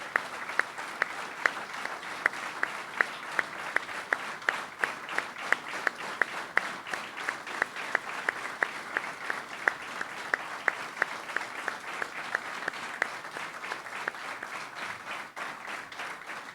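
A crowd at an open public meeting in Akranes, Iceland, claps continuously in a sustained, even round of applause with distinct nearby hand claps popping out over the wash.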